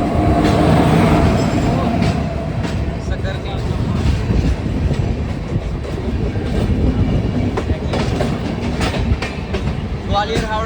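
Chambal Express, the Gwalior–Howrah passenger train, passes close by with a steady loud rumble and clattering wheels throughout, broadband and continuous with faint voices mixed underneath.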